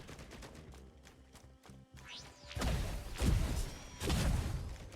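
Automated turrets firing in Risk of Rain 2, quick rattling shots at first, then heavier bursts and booming impacts with whooshing effects, moderately loud amid game noise and no speech.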